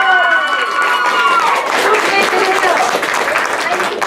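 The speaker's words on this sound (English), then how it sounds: "Give her a round of applause." Audience applause and cheering for a participant at a revolutionary war event, loud close clapping with excited voices and whoops mixed through it, fading slightly toward the end.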